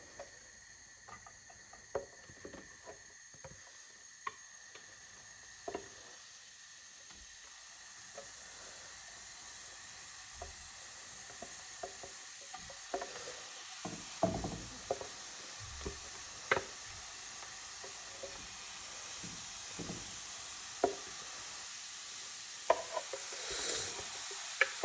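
Finely chopped mushroom duxelles in a pan, cooking for a Beef Wellington, give a steady close hiss and sizzle with intermittent stirring scrapes and clicks that get louder and busier toward the end, with no voices.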